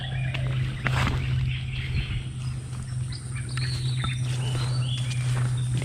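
Small birds chirp and tweet in brief calls over a steady electrical hum and outdoor background noise, out on a fishing spot for snakehead.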